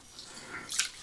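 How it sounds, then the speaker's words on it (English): Tap water runs into a pot of rice being rinsed, a soft hissing trickle with a brighter splashy burst near the end, close and fairly quiet. "as it's filling up, I'm going to agitate the rice and move it around"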